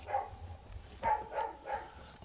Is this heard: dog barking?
yes